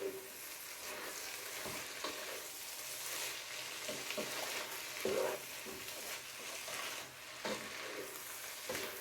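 Pasta being stirred together for a tuna bake, repeated scraping and clinking of a utensil in the pan over a steady background, fairly close, with no voices.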